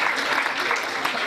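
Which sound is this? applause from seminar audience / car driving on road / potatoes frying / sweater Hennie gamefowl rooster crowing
applause from seminar audience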